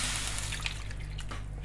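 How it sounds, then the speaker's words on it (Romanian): A little water is poured into a cooking pan, a soft, faint trickle and drip that stays low and steady under a quiet kitchen background. "Pun un pic de apă."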